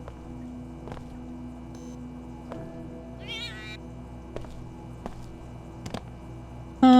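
Cats meowing inside a bathroom in the video game Deus Ex: Invisible War, a few short meows amid low mains hum and sparse clicks, with a louder burst at the end.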